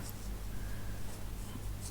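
A coloured pencil scratches and rubs on paper in a colouring book in close, continuous strokes, a soft dry scraping that stays fairly steady throughout.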